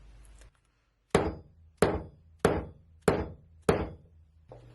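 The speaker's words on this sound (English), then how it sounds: "Use a brass hammer or a nylon hammer or something a little heavy" Five evenly spaced, sharp strikes from a brass dead blow hammer on a metal jewelry component made from hardware store parts, each a loud, close, solid thunk with a short ring, alone with no talk.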